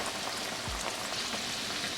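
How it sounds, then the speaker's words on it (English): Chicken pieces frying in hot oil give a steady, faint crackling sizzle, an even wash of fine pops with no talk. "While the chicken is frying"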